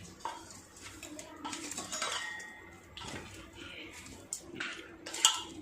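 Rice mixture being stirred with a spoon in a pot while making temple-style curd rice, giving scattered scrapes and metallic clinks of spoon against the pot, moderately close and quiet, with no talking.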